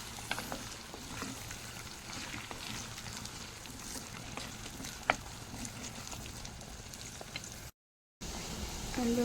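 Ginger and garlic frying in a pan with spoon stirring, a steady soft sizzle with light scraping clicks throughout, fairly faint and close.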